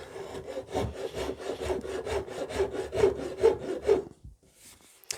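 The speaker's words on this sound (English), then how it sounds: "we can now take the curve file and start to work that in and blend it back into the rest of the neck shape" Steady rhythmic rasping strokes of a curved file shaping a wooden guitar neck, back and forth at an even pace, close up, then stopping near the end.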